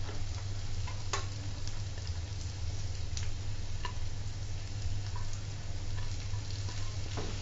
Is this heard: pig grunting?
no